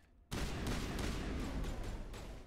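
Dense, continuous gunfire from the video game Mass Effect, a sustained burst of rapid shots that starts abruptly after a brief quiet moment and holds loud for the rest of the clip.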